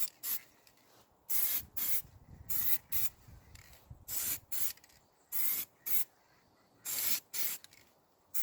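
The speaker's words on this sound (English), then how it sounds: "Use long and repeated spray passes to build up the heavy layer here" Repeated long bursts of spray paint hiss as a heavy base coat goes onto an alloy wheel, about a dozen separate passes of a second or less with short quiet gaps between them.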